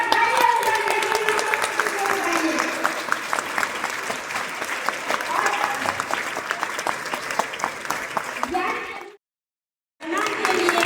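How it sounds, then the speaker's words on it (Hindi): Audience applause after a devotional song, a sustained, fairly loud patter of many hands clapping steadily for about nine seconds before cutting to silence, then faint sound resumes. "एक बार तालियां बजाइए।"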